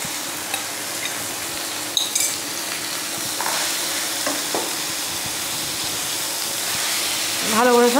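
Chicken frying in a pan while being stirred, with a steady sizzle, scraping of utensil on metal, and occasional clinks; a brief voice surfaces near the end.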